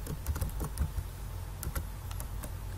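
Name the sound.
typing on a computer keyboard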